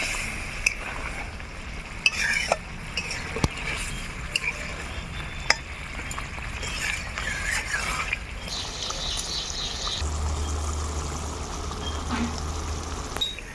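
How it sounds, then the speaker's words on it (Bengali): Paneer stir-fries in a pan for palak paneer, giving a soft steady sizzle with scattered clicks and scrapes of stirring, moderately close, and a faint low hum joining toward the end. "পনিরগুলোকে ছেড়ে দিয়ে আর একটু কষিয়ে নেব।"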